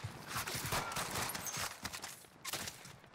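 Gunfire crackles in the shooter Call of Duty Warzone, a rapid, dense string of sharp shots from fairly close, with a brief lull before another burst near the end.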